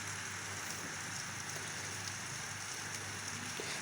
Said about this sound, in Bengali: কাজ করতে করতে বৃষ্টির যে মুষলধারে যে বৃষ্টি,